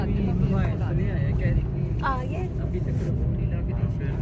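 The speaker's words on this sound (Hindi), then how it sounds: "ये ट्रैफिक इस तरफ से भी आई है।" Road traffic passes near a subway and underpass at Lahore's new airport terminal site, a continuous rumble of vehicles with someone talking over it throughout.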